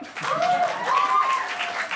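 An audience claps at a student union presidential debate, with a continuous patter of applause at moderate level while someone's raised voice carries over it.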